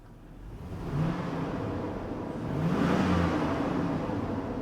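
A Chevy Silverado GMT800 Z71 V8 revving through factory mufflers, a low rumbling engine that swells twice in pitch and loudness, heard fairly close with no talking over it.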